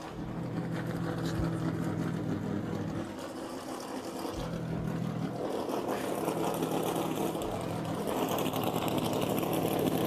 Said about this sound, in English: Oh, good to hear some engines here.